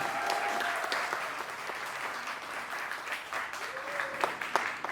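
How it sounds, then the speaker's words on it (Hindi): A live audience at a press conference applauds warmly to welcome actor Prosenjit Chatterjee, with steady sustained clapping for the full stretch and a couple of brief voices over it. "तहे दिल से जोरदार तालियों के साथ अभिनंदन किया जाए"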